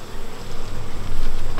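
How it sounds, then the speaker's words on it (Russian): Honeybees being shaken off a hive frame at an apiary make a loud, dense, close buzz that swells and never lets up, with no voices over it. "Этих пчел струсим."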